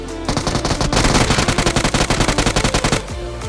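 Rapid automatic gunfire in PUBG Mobile, a loud close burst of evenly spaced shots running for about three seconds before cutting off, with no talk over it.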